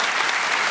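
Studio audience applause at a televised Q+A panel debate on cost of living, a brief steady burst of dense clapping filling the whole moment with no voices over it.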